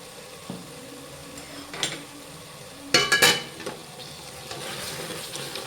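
Fish curry masala of ginger-garlic paste and turmeric frying and being stirred in a pan, with soft sizzling, a few scraping and clinking utensil knocks and a louder burst of spatula scraping midway.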